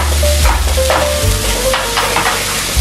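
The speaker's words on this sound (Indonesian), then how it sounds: "Dan kita akan tumis sampai harum." Ground shallots, garlic and candlenut sauté in hot oil in a pan, a continuous loud sizzle with scraping stirs of a utensil, close up and with no voice over it.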